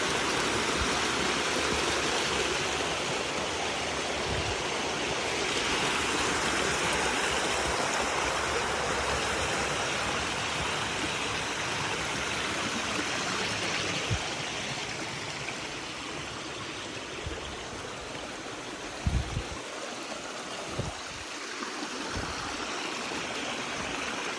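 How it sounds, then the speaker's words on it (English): Small waterfall in Hidden Canyon near Amed, Bali, a constant broad rush of falling water close by, steady and dense for the whole stretch with a couple of faint thumps near the end; no voices. "This is the spot where I usually come to meditate. Next to this little waterfall."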